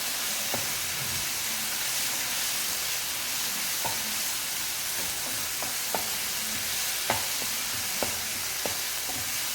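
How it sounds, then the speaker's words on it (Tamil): Masala sizzles in oil in a pan for a Tamil-style side dish, a continuous frying hiss broken by scattered sharp taps and scrapes of a stirring spoon, no talking. "அந்த எண்ணெயிலேயே அந்த மசாலாவும் நல்லா வதங்கணும்"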